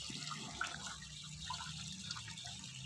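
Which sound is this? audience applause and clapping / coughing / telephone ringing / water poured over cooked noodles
water poured over cooked noodles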